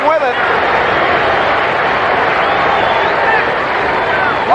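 A stadium crowd roaring at a 1981 Pittsburgh Steelers at Seattle Seahawks football game, a dense, steady loud din sustained throughout with a voice speaking over it.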